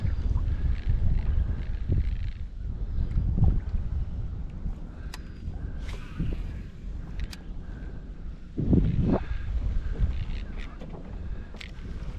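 Wind gusts over a lake at a weedy edge around a fishing boat, a steady rumbling buffeting of the microphone with occasional louder surges and faint knocks.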